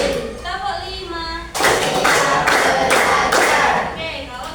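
Pupils in a classroom perform a rhythmic cheer clap, several seconds of dense, loud group clapping in quick pulses that follows a teacher's spoken count.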